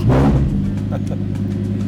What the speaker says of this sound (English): How do you like the exhaust? Exhaust is pretty sick, I can't lie.